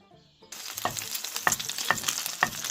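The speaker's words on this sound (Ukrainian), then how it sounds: "смажимо котлетки по одній-дві хвилини з кожної сторони" After a brief quiet moment, bread patties start sizzling loudly in hot oil in a pan, with a few sharp clinks of a utensil against it.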